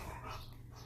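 Playful growling and whimpering from dogs in the background, faint and brief, with no talking.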